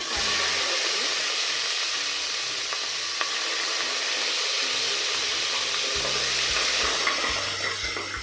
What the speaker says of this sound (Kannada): ಆನಿಯನ್ ಚೆನ್ನಾಗಿ ಫ್ರೈ ಮಾಡ್ಕೊಳ್ಳಿ